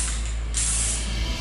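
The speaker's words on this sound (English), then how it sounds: "While you're spraying, make sure you don't overspray" A steady hiss of spray paint from an aerosol can onto a bicycle part, continuous and close, with a brighter burst partway through over a low background hum.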